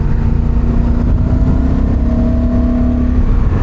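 Honda motorcycle with E-Clutch, engine droning steadily while cornering in third gear, a loud continuous drone with a faint rising tone and no speech.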